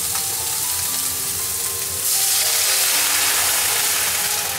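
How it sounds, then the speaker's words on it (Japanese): Water poured into a hot frying pan of chicken tsukune meatballs sets off a loud, steady sizzle and hiss that jumps louder about halfway through, then holds without a break. "裏返したらここにお水を入れて蒸し焼きにします"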